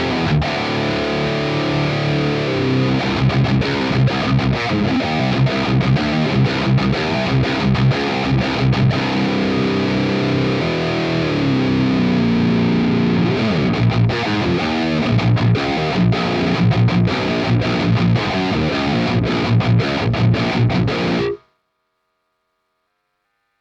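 Heavily distorted electric guitar in a low tuning played through a 5150 amp model, chugging metal riffs that stay loud and dense throughout before cutting off sharply near the end.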